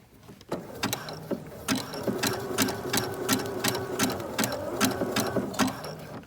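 A sewing machine stitches an appliqué in close, rapid bursts, its needle thumping in a steady mechanical rhythm that starts and stops briefly, clear and near with no talking.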